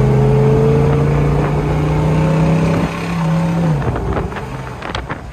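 Engine of a 1966 Chevrolet Chevelle convertible hums steadily, its pitch rising and falling through gear shifts before it winds down to a softer idle, heard close with no one speaking.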